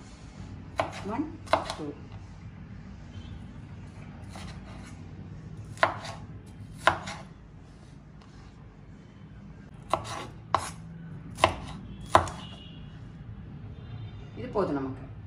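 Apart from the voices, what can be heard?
knife chopping green and red capsicum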